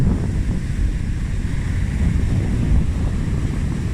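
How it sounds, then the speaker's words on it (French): Steady rushing wind blends with the continuous roar of ocean waves, loud and unbroken throughout. "prenez un temps pour écouter la puissance des éléments. Le vent, les vagues"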